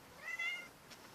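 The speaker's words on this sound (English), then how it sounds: "It's my cat, Colby." A pet cat meows once clearly at close range, a short rising-falling call, followed by a faint second sound, with no talking.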